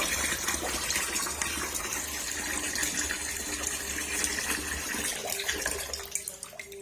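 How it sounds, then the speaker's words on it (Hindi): Tap water gushes steadily over bitter gourd held in a fine strainer under a kitchen faucet. The splashing stream is loud and close, running without a break and easing slightly at the end. "ऐसे हमने टूटी के नीचे कर लिए।"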